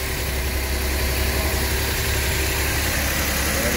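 A freshly overhauled Suzuki Multicab K6A engine idles close by with an even, continuous rumble and a slight mechanical vibration, steady from start to finish with no voices.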